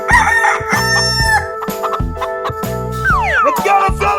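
A rooster crows in a 3D animal video game, a loud drawn-out cock-a-doodle-doo with a couple of clucks, set against bouncy game music.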